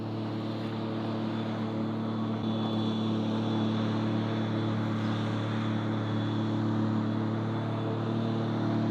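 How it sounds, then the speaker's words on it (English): A small jet boat runs on open water in a steady, fairly faint engine drone with a thin high whine above it, holding even throughout with no talk. "check out this little freaking jet boat"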